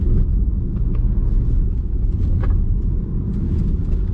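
A RAM Rampage R/T 2.0 Turbo sport pickup being driven hard through a handling test, giving a steady, loud low engine and road rumble throughout with no talk.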